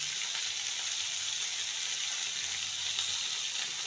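Spiny gourd (kakrol) pieces seasoned with turmeric and salt fry on low heat in a covered pan, making a steady, soft, even sizzle with no other sounds.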